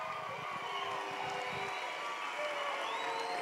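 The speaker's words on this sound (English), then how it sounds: "Okay, one more big round of applause." At a graduation ceremony, a large audience applauds and cheers in a dense, continuous wash of sound heard from some distance, fairly faint and steady throughout.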